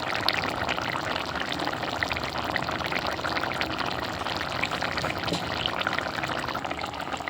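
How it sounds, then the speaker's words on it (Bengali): Raw mustard oil poured into a simmering pot of potato and poppy-seed curry, a steady liquid pour with faint bubbling, close and continuous, with no talking. "শেষে কাঁচা সর্ষের তেলটা দিলে বেশ ভালো লাগে খেতে"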